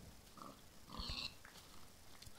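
Pigs in Minecraft giving a couple of faint, short grunting oinks, distant and quiet over low background noise.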